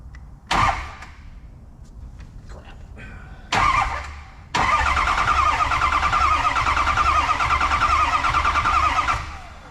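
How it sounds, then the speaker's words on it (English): A 6.0 diesel engine cranking on the starter in short bursts, first two brief turns and then a longer steady rhythmic cranking of several seconds, close and loud. "Let's bump that starter over and see what it sounds like."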